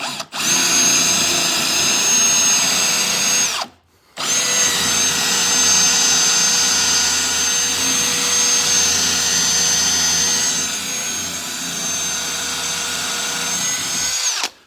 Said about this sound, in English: Definitely need to sharpen these Forstner bits.